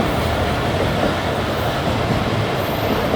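An express train in Pakistan braking as it slows for a station, giving a loud, steady rumble and roar of wheels on rail throughout, with no voices.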